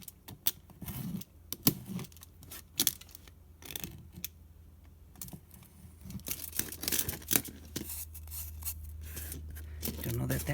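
Scissors snipping off the messy end of a piece of craft material at close range: several crisp cuts and paper rustles with small handling clicks, followed by a low steady hum.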